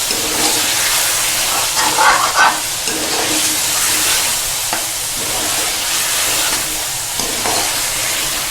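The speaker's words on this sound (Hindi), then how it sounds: "अब हम इसमें आलू, जो कि मैंने इस शेप में काटे हुए हैं, ये मैं डाल के 5 मिनट मज़ीद इसकी भुनाई करूँगी" Mutton and cut potatoes frying in a pot for aloo gosht, a loud bubbling sizzle with repeated scraping and stirring strokes, close and continuous.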